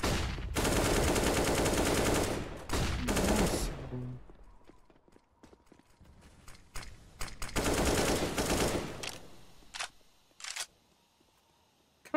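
Rapid automatic gunfire from a Counter-Strike match, played in a Fluxo vs Imperial IEM Brazil qualifier, comes in loud sustained bursts separated by quieter stretches of scattered single shots and clicks.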